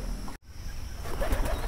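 Pigeons cooing inside a pigeon house in Bangladesh after rain, soft low burbling coos heard close by over a steady background hum, with a brief dropout partway through.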